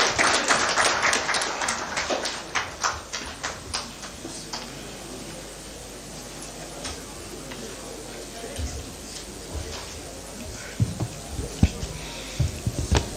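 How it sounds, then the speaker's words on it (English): Applause from an audience at a live roundtable engagement in Borno state, following the Deputy Governor's speech: dense clapping that starts strong, thins out and fades under a voice over a loudspeaker, with a few scattered claps near the end. "Another round of applause for His Excellency"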